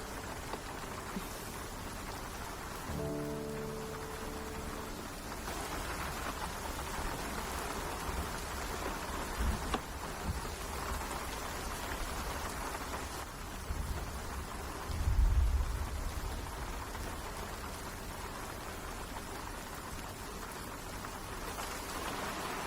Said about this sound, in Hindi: बारिश भी इतनी जोरों से हो रही है।